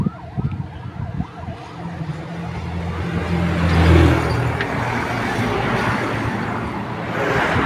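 An ambulance siren wails through heavy traffic noise, swelling louder midway as vehicles rumble past on the road.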